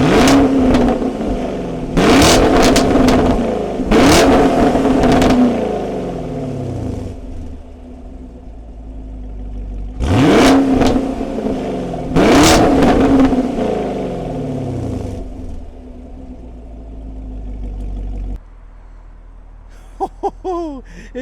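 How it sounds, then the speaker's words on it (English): A 2023 Chevy Camaro SS coupe revs loudly up close in two bursts of sharp throttle blips, each spike climbing and falling away to a rumbling idle, with a quiet gap and a few faint clicks at the end. "We're going to rev this up and we're just going to take it all in."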